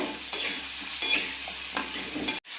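Potatoes fry in a pan with a soft steady sizzle, punctuated by a few scraping stirs; no voices.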